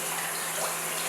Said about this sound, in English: my afang leaves, washing all that salt out of it. So I'm gonna rinse it about twice.